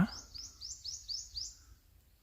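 A bird perched in a tree in a village sings a quick run of about six sharp, repeated chirps in steady rhythm, clear and fairly close, then falls quiet over faint outdoor background.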